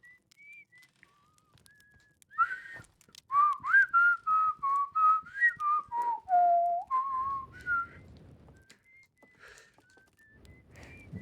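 A melodic tune whistled in the video game Outer Wilds: Echoes of the Eye, starting faint and sparse, then swelling into a loud, steady run of sustained notes before thinning out again.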